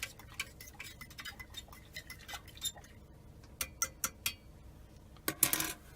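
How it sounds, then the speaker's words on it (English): A spoon stirs coffee to froth it, clinking against the cup in quick, light metallic ticks, then slower, sharper taps, and a brief brighter scrape at the end, close and clear with no talking. "I'm going to give this a little stir."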